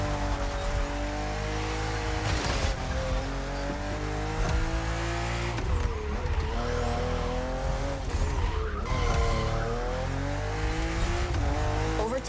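BMW cars racing on a narrow, twisty road in the video game The Crew Motorfest: loud, continuous engine roar rising and falling through gear changes, with tire squeals on sharp bends and no talking.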